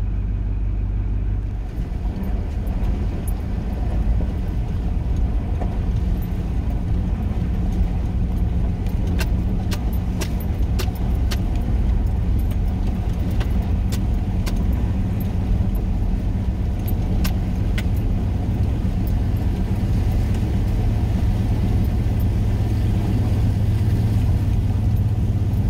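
Four-wheel drive car in the Victorian High Country idling and creeping into a water crossing, a steady low engine drone throughout with occasional splashes and rattles, close and fairly loud, no talking.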